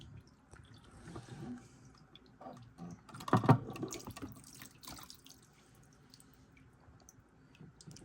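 Fuel drains and trickles from the pulled fuel pump assembly of a Dodge Charger 5.7 HEMI, a faint, uneven liquid dribble with one brief splashier gush midway.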